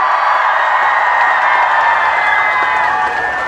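A large outdoor crowd at a rainy Seongju melon festival concert applauds and cheers in a steady, dense roar, with whoops rising above sustained clapping throughout.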